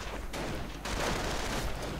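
A dense artillery barrage in a WWII strategy game, heavy continuous rumbling blasts overlapping with no break, loud and distant-sounding, with no voices.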